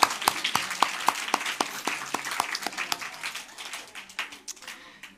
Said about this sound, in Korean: 예수 그리스도께 다시 한번 영광의 박수